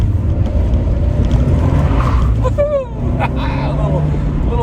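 A 2017 Fiat 124 Spider Abarth sports car driven hard through a corner, its engine a continuous loud drone with a short squealing sweep mid-pass, while someone talks over it the whole time.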